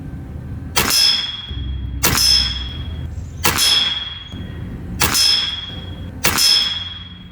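Five evenly spaced sharp metallic clangs ring out as 13.43 grain pellets from a lever-action PCP air rifle strike a metal target at about 12 yards, each followed by a brief ringing decay.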